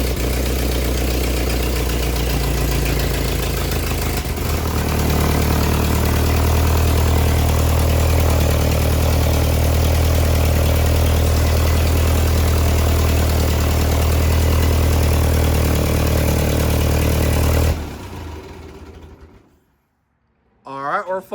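A restored Ford 8N tractor engine runs at a steady, loud idle with a low throbbing note for about eighteen seconds, then cuts out to near silence before a brief noise at the end.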